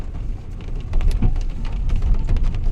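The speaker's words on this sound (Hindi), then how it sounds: "भरी बारिश में।" Heavy rain falling in the Uttarakhand hills along an old British-era footpath, a loud, dense, continuous wash of drops with deep rumbling underneath and scattered sharper splatters up close.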